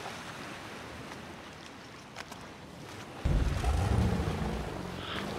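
A fast, unusual boat in the survival game DayZ: a soft, windy rush of water is followed by a sudden jump to a louder, steady roar of hull and engine cutting through the waves.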